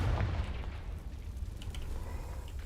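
A Confringo fire spell explodes in the video game Hogwarts Legacy, opening with a sharp boom that settles into a heavy, rumbling roar lasting the whole moment.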